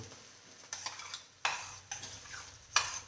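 Garlic-ginger paste being stirred into fried onions in a pan, with three distinct bursts of spatula scraping and a sizzling hiss between them.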